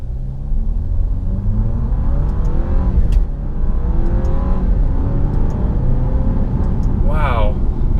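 A 2017 Alfa Romeo Giulia Ti pulls away from a stop at light throttle, its engine note rising steadily and heard from inside the car. A faint upward-sweeping whine follows near the end, and there is no speech.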